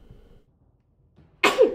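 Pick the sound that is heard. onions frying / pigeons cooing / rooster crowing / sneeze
sneeze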